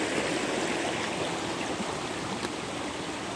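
A stream swollen after heavy overnight rain rushes loudly and steadily, a dense unbroken roar of running water close to the recorder.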